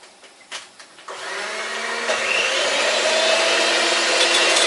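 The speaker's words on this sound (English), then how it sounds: "just turn the mixer on and soften it by beating it with the electric whisk" An electric whisk mixer whirs up from a few soft knocks into a steady, loud high-pitched drone as it beats softened icing ingredients in a bowl for a chocolate cake.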